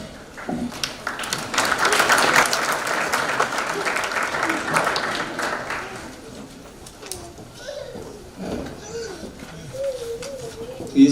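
Applause from the audience at a high school National Honor Society induction ceremony, a strong burst of clapping that fades after several seconds. Scattered voices and some room noise remain afterward.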